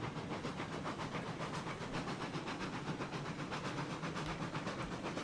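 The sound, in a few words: train running on the line in RailRoads Online video game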